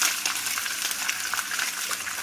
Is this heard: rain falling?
no